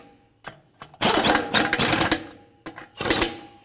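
Bolts are snugged on the front wheel hub of a 2017-or-later Ford F-350 dually, with a few short buzzing bursts of a power driver, each followed by brief pauses.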